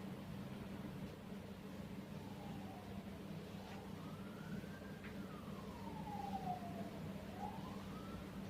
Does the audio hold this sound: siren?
yes